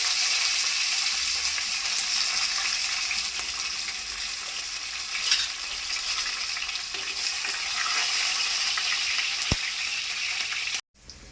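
Green chillies frying in oil with cinnamon, cardamom, cloves, peppercorns and bay leaf for a boti curry, a steady, close hiss of sizzling oil with light stirring, running evenly until it cuts off near the end.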